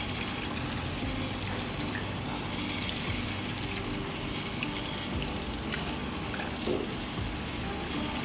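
Steady running water pours over braided hair, soaking the braids and scalp ahead of shampooing, a continuous close gush with no talking.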